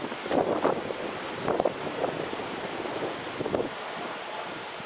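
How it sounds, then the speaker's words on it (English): Steady outdoor wind at a campsite roars and buffets the microphone in loud gusts, with no voices and no other sounds standing out. "Let me stand up real quick so you can hear the wind difference."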